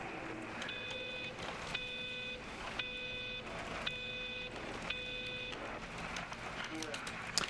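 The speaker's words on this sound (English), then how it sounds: "That was 5 long beeps." Five long electronic beeps at an even pace in the video game Everybody's Gone to the Rapture, each a steady tone with a short gap between, heard over a faint background hum.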